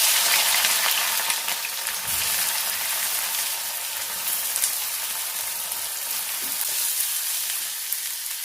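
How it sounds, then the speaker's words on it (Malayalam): Sliced onion fries in plenty of hot oil over lowered heat, a loud continuous sizzle and crackle close by, with occasional stirring clinks and no talking. "ഇനി നമുക്ക് തീ ഒന്ന് കുറച്ച് വെച്ചിട്ട് സവാള ചേർത്ത് കൊടുക്കാം."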